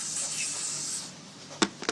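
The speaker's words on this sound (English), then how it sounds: "spray inside one more time." Lubricant sprays from a can into a Glock 26 pistol in a short close hiss, followed by a couple of small clicks.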